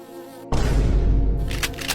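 A loud, close swarm of bees suddenly erupts into a dense, droning buzz after a quieter moment and keeps going with wavering intensity.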